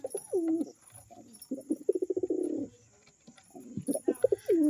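A pair of pigeons coo up close, delivering repeated throaty rolling calls with a fast pulsing burst in the middle, then resuming after a short pause in a quiet setting.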